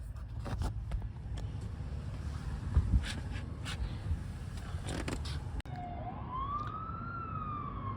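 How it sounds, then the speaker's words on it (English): A siren wails in the distance over steady traffic and road noise in a small town in Walnut Ridge, Arkansas, rising and falling, with a vehicle passing nearby. "You hear those sirens?"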